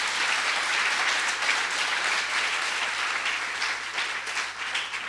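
A church congregation breaks into loud, dense applause for the Lord during a sermon, a sustained wash of clapping that stays strong for five seconds with no voice over it.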